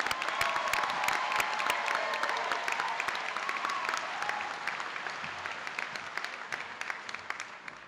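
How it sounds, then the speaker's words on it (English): At the Galileo 2019 graduation, a crowd applauds the graduating class of 2019 with thick, steady clapping and a few faint cheers, slowly tapering in loudness toward the end. "please take a moment to applaud the tremendous accomplishments of the class of 2019."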